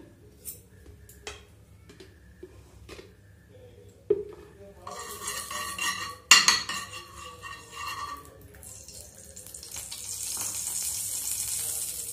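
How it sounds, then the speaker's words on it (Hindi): Almonds and cashews are roasted in a spoonful of ghee in a kadai. Light stirring clinks and scrapes come first, then a soft, steady sizzle builds toward the end. "ड्राई फ्रूट है बादाम और काजू इसको हम भून लेते हैं"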